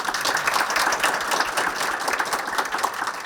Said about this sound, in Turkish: Bir alkışla sizlerden Denizbank için almak istiyorum.